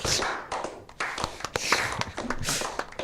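Sharp, rapid claps play as a short applause-style sound effect on a podcast, a burst of several hand claps close and loud over about three seconds.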